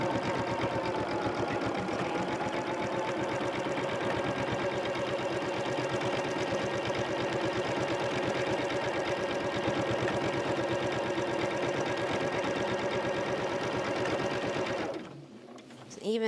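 A sewing machine runs steadily for about fifteen seconds while quilting an Animal Crackers quilt with a walking foot, then stops abruptly near the end.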